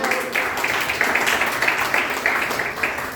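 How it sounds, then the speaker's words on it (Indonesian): A church congregation claps hands together in praise, a dense, steady stream of applause with a faintly rhythmic pulse and no break. "tepuk tangan bagi Tuhan"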